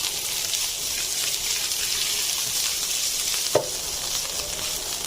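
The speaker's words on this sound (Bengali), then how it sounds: "সেই মাংসগুলো আমি অল্প একটু ভেজে নেব। তার জন্য আমি একটু তেল দিয়ে দিলাম। এবার আমি মাংসগুলো দিয়ে দিচ্ছি।" Boiled sliced meat, cooked with salt, ginger and garlic, sizzles steadily in hot oil, a continuous close crackling hiss with one sharp clink of a utensil near the end.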